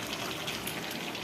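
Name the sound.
water poured into pot of bottle gourd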